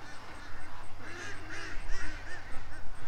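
Ducks on a windy farm quack in a steady string of harsh, nasal calls close by, repeating in quick bursts over a low rumble of wind.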